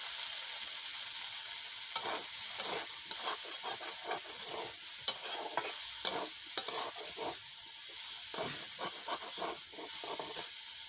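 Water hyacinth greens fry in a small amount of oil, giving a steady close sizzle with intermittent stirring scrapes throughout, no talking.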